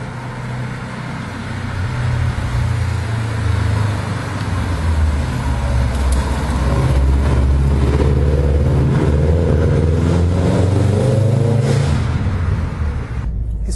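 Subaru WRX STI, its most aggressive version, driving with a steady, loud engine drone that rises and swells as it accelerates, heard from inside the car, with road noise and no talking.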